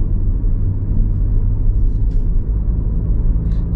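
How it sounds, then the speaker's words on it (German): A car engine accelerating during a driving lesson, a steady deep rumble with road noise filling the cabin, loud and continuous with no talk over it. "Du kannst ruhig Gas geben."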